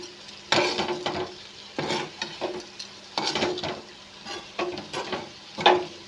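Spoon stirring a vegetable fry in a frying pan, with repeated scraping strokes at a steady rhythm over a soft, continuous sizzle; close and moderately loud, with no voices.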